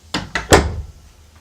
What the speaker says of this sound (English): So the door is closing right now.